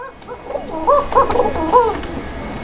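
Koka pigeons coo close by in a short run of soft, rolling, repeated phrases, rising and falling, with no one talking.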